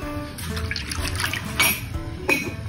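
Soy sauce poured into a kawali pan for Chinese fried chicken, a soft liquid trickle with a few brief splashy bursts, close and fairly quiet, no talking.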